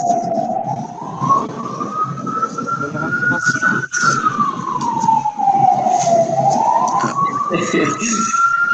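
An emergency vehicle siren outside near a hospital wails loudly and continuously, its pitch sweeping slowly up and down in long cycles over steady background noise.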